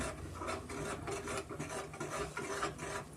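A ladle scrapes and breaks up lumps while stirring spicy khara rava pongal in a pan over medium flame, a steady rough rasping and rubbing repeated in quick strokes, close and alone.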